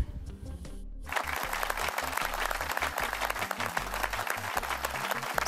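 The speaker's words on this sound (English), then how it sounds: "I would like to give myself a round of applause for not giving up." A round of applause begins abruptly after a second of quieter sound, with dense clapping over a pulsing low beat that carries on to the end.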